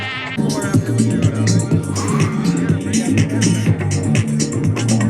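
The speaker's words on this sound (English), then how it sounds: "Drifting down the corkscrew." A car drifts down the Corkscrew at Laguna Seca during a Gridlife track event. The engine drones loud and steady throughout with layered harmonic buzzing, and a voice is heard briefly over it.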